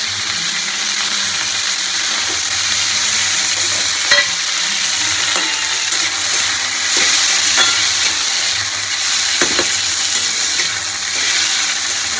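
Oil in a kadai hisses and crackles in a loud, steady sizzle, with occasional scrapes and clinks of stirring close by and no talking.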